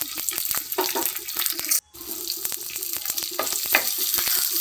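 Green chillies and crushed small onions sautéing in a pan for a village-style dried fish curry, with a busy close sizzle and repeated scraping stirs, a brief dropout near the middle, and no talk.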